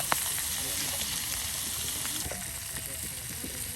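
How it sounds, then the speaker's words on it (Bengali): Hilsa fish pieces deep-frying crisp in hot oil, with a steady, close sizzle and occasional stirring over the full stretch as people talk nearby. "একদম মচমচে ইলিশ ভাজা।"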